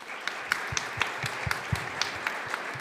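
A small audience at a Finnish economics panel debate claps for the panelists being introduced, with sparse, distinct claps at a modest and steady level.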